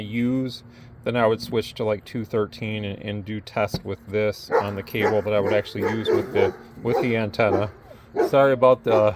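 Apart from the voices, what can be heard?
dogs barking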